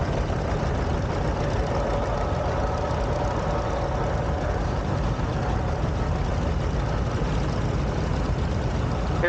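A 1960 John Deere 730 tractor rated at 60 horsepower rumbles steadily in a parade at a show, a continuous low engine chug running evenly and fairly close throughout.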